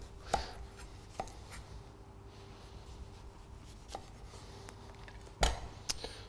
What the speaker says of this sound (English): we're going to take a nice sharp knife and we're just going to peel around the skin of the celery